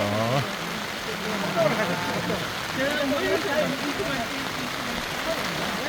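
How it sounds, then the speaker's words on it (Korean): Heavy rain falls steadily outdoors at a national cemetery, making a constant, even hiss of drops hitting surfaces. A voice is faintly heard beneath the rain. "비가 많이 오는 상황으로 촬영은 짧게"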